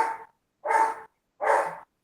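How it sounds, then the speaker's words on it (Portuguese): A dog barks three times near a wall outside, each bark loud and close, evenly spaced with silent gaps between them. "tá muito alto o latido do cachorro?"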